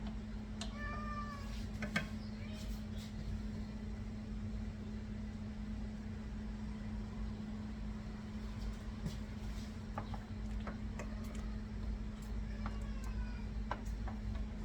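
A cat meows several times in a kitchen, short rising calls early and again near the end over a steady appliance hum, with no one speaking.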